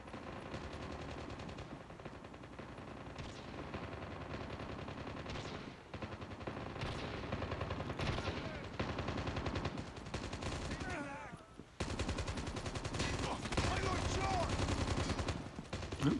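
Rapid automatic gunfire from Call of Duty Mobile played on an iPhone, dense bursts of machine-gun fire rattling almost continuously at high level, with brief gaps and layered explosions of shots throughout.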